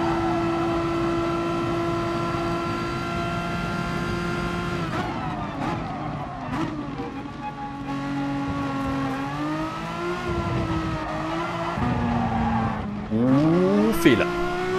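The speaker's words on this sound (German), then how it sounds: "Da ist mir doch glatt das Heck weggerutscht und das bei einem Frontriebler." A Renault Mégane Trophy GT4 races at Suzuka in GT Sport with a steady engine drone, and its tires squeal as the rear slides out over the curbs, rising to a sharp skid near the end.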